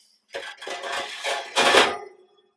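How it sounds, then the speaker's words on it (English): Metal oven trays slide and clatter back into a freshly cleaned oven, several scraping, rattling passes in quick succession that end with a louder final clank, close by with no talking. "Panels going first, and then we put the trays back in."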